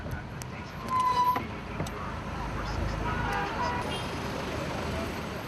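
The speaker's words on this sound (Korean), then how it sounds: "교통체증이 대단합니다" City traffic jam on a road into Abidjan, Côte d'Ivoire: a steady wash of engine rumble and road noise with short car horn toots scattered through, moderately distant and continuous.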